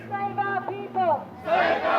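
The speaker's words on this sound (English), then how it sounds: "so you can see we've got a mad crowd" A rowdy crowd at a political rally with Fraser Anning erupts in loud, sustained cheering after a few seconds of a voice talking, the roar swelling and holding close and full to the end.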